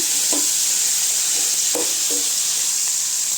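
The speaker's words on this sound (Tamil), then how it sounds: "உப்பு சேர்த்து நல்லா கொஞ்சம் நேரம் கிண்டி விட்டுக்கலாங்க" Liver frying in a pan for a Tamil-style varuval gives off a steady bright sizzle, with a few soft scraping strokes as the pieces are stirred.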